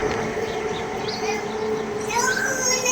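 An LG 1.5-ton window air conditioner runs with its fan motor making a loud, steady droning hum and a rattly whine, close up and continuous, with no voices heard.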